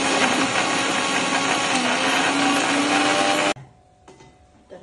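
A kitchen mixer grinder whirs loudly and steadily as it grinds garlic cloves and green chillies into a paste, then cuts off abruptly, leaving quiet room noise.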